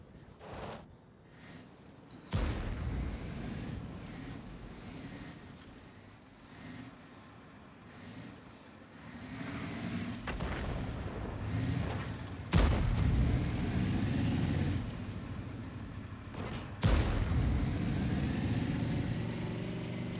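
A tank battle game with an ELC light tank and an enemy self-propelled gun: several heavy cannon booms ring out over a constant low engine rumble, with sharp blasts spaced a few seconds apart and distant thuds between them.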